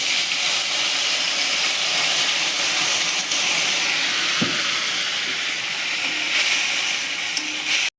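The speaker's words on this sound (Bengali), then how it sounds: "এবার মশলাটা তেলে দিয়ে কষিয়ে নেব" Ground spice paste frying in hot oil in a pan that held fried potatoes, giving a loud, steady hiss and sizzle that holds for the whole stretch, with faint stirring knocks.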